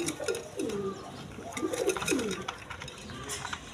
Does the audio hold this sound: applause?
no